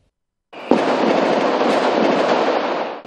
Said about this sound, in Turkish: Silah seslerinin ardı arkası kesilmedi.